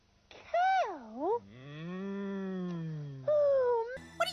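A cow lets out a long, loud, wavering moo that swoops up and down in pitch, followed by a second rising call near the end, heard alone without talking.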